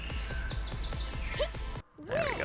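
Chirping horse-bird enemy in the game Megadimension Neptunia VIIR, a run of rapid high bird tweets over rhythmic battle music, followed by a short gap and a brighter swooping call, fairly quiet overall.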